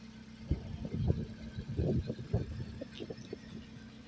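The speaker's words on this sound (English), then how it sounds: "what you hear is the sound of a purring 289 V8 in a beautiful 66 Mustang convertible" A 1966 Ford Mustang convertible with a 289 V8 idles steadily nearby, a low, even engine rumble with small irregular pulses running throughout the clip.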